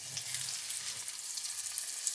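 Vegetables sizzle and fry steadily in a home cooking pan, a continuous bright crackle with faint stirring, fairly close and without voices.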